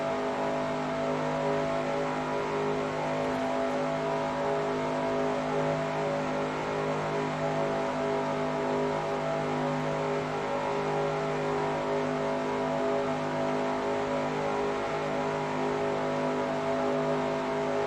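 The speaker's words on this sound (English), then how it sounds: "These cars are not running too high RPMs, they're running pretty consistently calm." A pack of stock cars in NR2003 racing at Talladega holds a steady, even engine drone at moderate RPM, a continuous layered hum with no revving, no talk.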